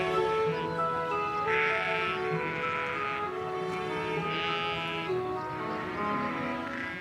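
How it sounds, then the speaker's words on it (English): Several sheep bleat in repeated, wavering calls at a moderate distance as they are returned to a pen on a German island, a few overlapping over a steady outdoor background. "We have just returned the sheep to the pen"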